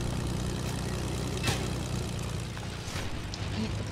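Steady propeller aircraft engine drone from a battle royale video game, droning continuously at moderate level throughout with no break and no speech.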